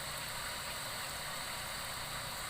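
An electric motor drives a shallow water pump fitted with PVC pipe, giving a steady, continuous mechanical hum and whir with broadband hiss, constant and unchanging throughout with no voices.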